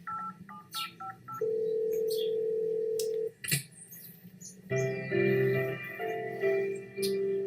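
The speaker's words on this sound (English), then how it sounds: "Here's my phone. Use it to call Miss Cleopatra." A phone is dialed in the Cat President video game: a quick run of short keypad tones, then a long steady tone, followed by a brighter ringing pattern, clear and close with no voices.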